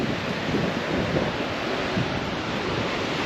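Continuous roar of ocean surf washing onto the beach at Furadouro, Ovar, Portugal, steady and broad, with wind buffeting the microphone.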